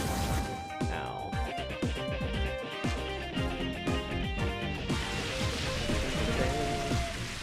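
Dense, steady rainfall from the Rain Dance move in the video game Pokemon XD, a loud hissing patter of drops that runs throughout, with a brief whooshing swell and faint game tones layered in.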